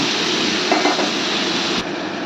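Cumin and chili paste frying in a pan with spice water poured in, a loud dense continuous sizzle close up, with a brief stirring scrape partway through before the hiss drops slightly.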